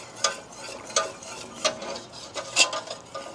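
A whisk stirs flour into melted butter in a pan to make a roux for pastitsio, giving soft scraping and stirring strokes with a few sharper metallic taps on the pan at close range.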